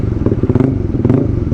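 Honda CB150X adventure motorcycle fitted with a new aftermarket exhaust, revving loudly up close in a dense, rumbling burst with two brief rises in pitch, nothing else heard.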